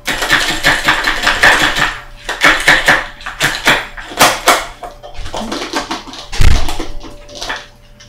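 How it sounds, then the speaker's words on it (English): Knife chopping cocoa almonds on a cutting board, giving quick bursts of loud, close, sharp taps in irregular rhythm with short pauses between runs and a heavier knock near the end. "Okay, so I'm going to chop these up."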